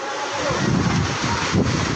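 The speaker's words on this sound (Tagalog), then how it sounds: "tila nagsayawan ang mga kable dahil sa lakas ng hangin kahapon" Strong wind roaring and buffeting a microphone, a continuous loud rumbling gust with surging swells.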